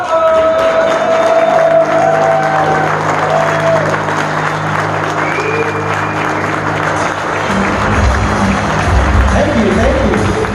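A live speech audience applauds and cheers steadily and loudly as a speaker named Keith is introduced, with a dense wash of clapping and crowd noise throughout and some voices mixed in.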